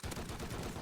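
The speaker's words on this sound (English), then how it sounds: "That crack, that's a headshot." Gunfire in the Rust video game, including a headshot crack, comes as a rapid run of faint, distant-sounding shots in a steady, roughly regular rhythm.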